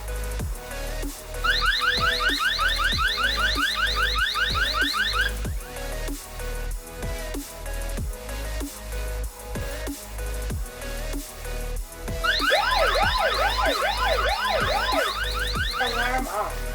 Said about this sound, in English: You may tap the siren icon to turn on the siren sound.